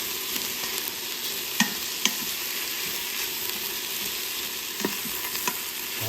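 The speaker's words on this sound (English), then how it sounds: "we're going to check on those onions. Oh yeah, see they're browning in there" Onions browning in an Instant Pot for pot roast, a continuous close sizzle with occasional light clicks and scrapes of stirring.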